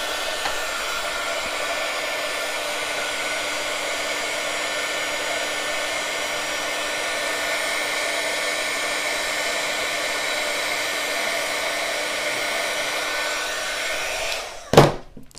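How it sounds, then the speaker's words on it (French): Heat gun blowing steadily over embossing powder on a rubber stamp, a loud, even broadband whoosh lasting about fourteen seconds before it is switched off with a brief clunk. "j'enlève ma poudre surtout pour ne pas qu'elle parte avec le pistolet chauffant"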